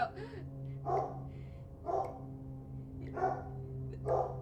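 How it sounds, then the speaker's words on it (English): A dog barks in short bursts in a video game, about four spaced barks over a steady low lawnmower hum, moderately close. "the dog's barking because someone's mowing the lawn"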